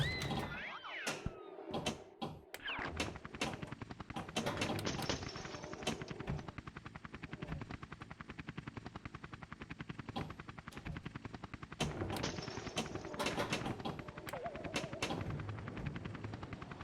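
Fireworks effect in the Junk Yard table of Pinball FX3: a long run of rapid crackling pops and bursts, loud and busy, with mechanical game noise rolling continuously underneath and a second burst of crackles near the end.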